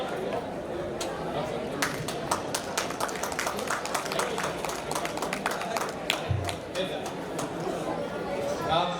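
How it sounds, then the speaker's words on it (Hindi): A crowd of audience members claps at a community matchmaking gathering, dense and steady across the whole stretch, with scattered sharper hand claps, faint chatter mixed in, and no speech standing out. "आप जोरदार तालियों के साथ स्वागत करिए"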